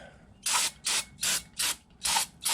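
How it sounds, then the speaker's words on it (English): Brake cleaner sprays in six quick, loud hissing bursts at a steady rhythm onto the flywheel area of a Volkswagen Type 1 engine, close up with no talking. "We'll hit it with a little brake clean."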